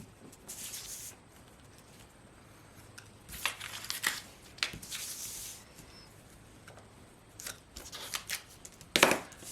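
Scissors snip through fabric pattern pieces in short bursts of crisp, close cutting, separated by quiet pauses and soft rustling.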